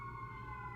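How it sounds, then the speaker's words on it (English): A faint emergency siren wails steadily in the distance under a low background rumble. "Oh, it's just like a emergency vehicle thing."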